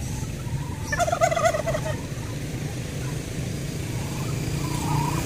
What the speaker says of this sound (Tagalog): Yung pabo, andito na sila.